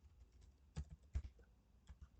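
Quiet typing on a computer keyboard, a short burst of a few soft, irregular clicks with two slightly sharper keystrokes, close and alone.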